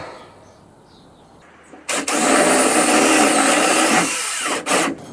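Power drill bores into wood while a garage door is being fitted, a faint rustle followed by a sudden loud, sustained whine that briefly dips and resumes near the end.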